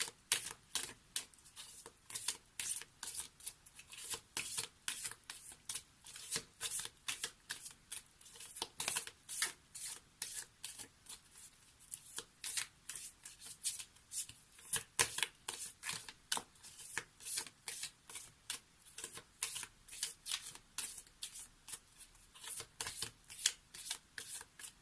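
Soul-to-soul oracle cards being shuffled by hand, a long run of quick crisp flutters and riffles in rapid irregular bursts, close and quiet with no speech.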